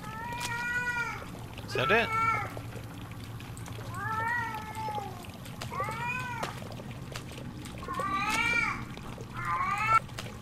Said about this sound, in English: where the hell is this cat?